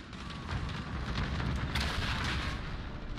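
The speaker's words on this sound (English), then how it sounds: "Stop detonating your C4, you idiots!" C4 charges detonating during a Call of Duty Vanguard live event, a dense, continuous roar of blasts and rumbling debris that swells around the midpoint and stays loud throughout, with no talking.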